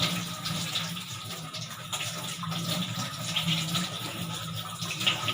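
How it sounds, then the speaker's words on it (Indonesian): Tap water runs continuously from a faucet while hands are rinsed from fingertips to elbows, a steady close splashing hiss with small fluctuations. "Bilas dari ujung kuku sampai ke siku."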